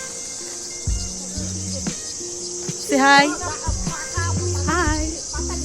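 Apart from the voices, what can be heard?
crickets chirping in a forest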